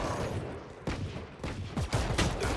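Gunfire in Valorant hitting the player: a sharp burst of shots opens, then several more cracks and short bursts follow over the next couple of seconds, loud and close against steady background game noise.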